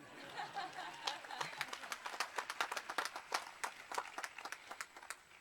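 Scattered clapping from an audience at a college presidential inauguration, a thin patter of separate hand claps with some murmuring and light chatter beneath, fairly quiet and distant.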